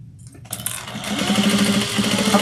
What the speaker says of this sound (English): I'm just going to pick up my threads and start sewing